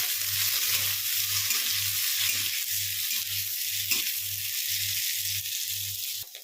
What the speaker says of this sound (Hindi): आलू को हम गोल्डन ब्राउन होने तक फ्राई कर लेंगे हाई फ्लेम पे।